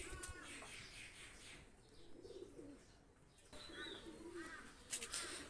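Pakistani high-flying pigeons coo softly and repeatedly at close range, a low, gentle burbling with a few faint chirps and wing rustles against quiet background noise.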